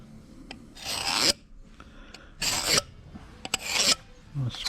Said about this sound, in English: I'll mark this one 3/4 of an inch. We're going to scribe that.